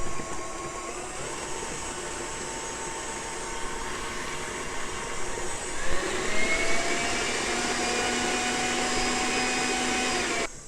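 Electric mixer whipping grainy buttercream frosting for a copycat Little Debbie Christmas tree cake, a steady loud whirring drone that shifts in pitch partway through and runs continuously with no talking.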